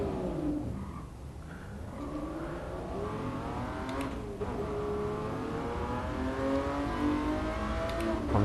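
A 1994 McLaren F1 engine in the driving game GT Sport, climbing steadily in revs under acceleration with a sustained harmonic whine that rises and settles and rises again, loud and continuous with no talking.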